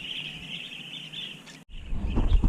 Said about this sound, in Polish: co to za ptaki?